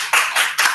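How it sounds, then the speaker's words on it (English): Forum audience clapping for a speaker in a conference session, a brief, fairly loud burst of hand claps in several uneven pulses, with no voices over it. "So please give a big applause to the third speakers."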